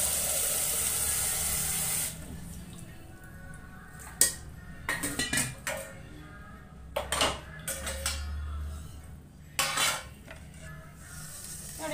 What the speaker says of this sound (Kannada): ಇಲ್ಲೊಂದು ಸ್ವಲ್ಪ ಪಾನ್ ಇಟ್ಕೊಂಡಿದ್ದೀನಿ